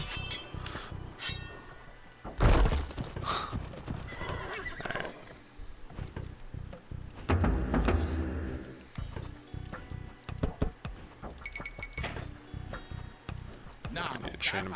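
Horses neigh and whinny with scattered hoof clatter and metallic clinks amid battle noise in Age of Empires II, several loud whinnies standing out over busy game sounds while a person talks.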